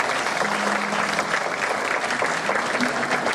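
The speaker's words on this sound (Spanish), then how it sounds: "Un aplauso para ustedes mismos." An audience claps and cheers at an evening anniversary fiesta in Santiago, Nuevo León. The applause is loud and continuous, a dense wash of many hands, with scattered voices mixed in.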